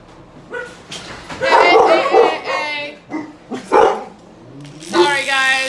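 Several dogs, including a poodle being groomed indoors, bark and yip loudly in repeated bursts at a vehicle driving around outside, with the barks overlapping and fading between outbursts.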